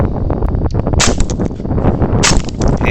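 Two sharp gunshots fired at wild hogs outdoors, one at about one second and another near two and a half seconds, each cracking above a steady rustling background.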